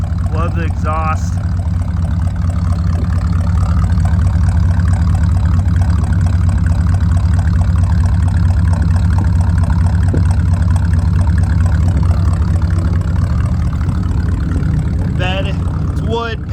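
Chevy C10 stepside truck with a 305 V8 idling, a loud, steady low exhaust burble rumbling close by and unbroken, with a person talking briefly near the start and end.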